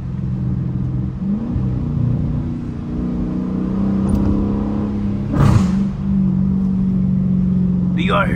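A Dodge Challenger R/T's engine hums and revs while driving in the rain at night, a steady low drone that swells under a voice talking inside the car.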